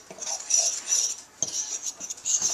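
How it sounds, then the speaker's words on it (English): A fork mixing tortilla dough ingredients in a bowl, quick bright metallic clinks and scrapes in a brisk uneven rhythm, close and moderately loud with no talking. "Now with a fork, whatever you have. And you want to mix this together initially."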